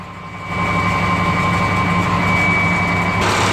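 A truck engine idles just after a cold startup, a loud, steady low drone with a constant tonal whine that swells slightly after a half second and holds evenly.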